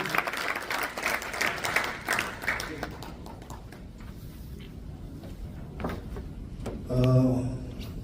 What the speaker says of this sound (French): Applaudissez plus fort pour l'encourager quand même.